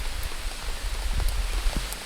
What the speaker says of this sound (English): it's like 90 degrees and it's pouring down rain